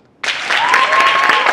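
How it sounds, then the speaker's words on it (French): Audience applause from high school students erupts abruptly and holds steady, dense and loud, with a faint sustained tone running through it. "Applaudissez pour elle."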